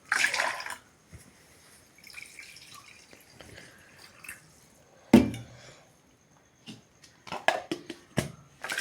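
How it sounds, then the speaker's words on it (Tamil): Ingredients being washed by hand in rice-washing water in a kitchen: intermittent splashes, drips and trickles with quiet gaps between, plus a sharper splash midway and a cluster of wet sloshing near the end, without speech. "அப்படியே இதை அரிசி கழுவுற தண்ணியால் நல்லா கழுவுறோம்."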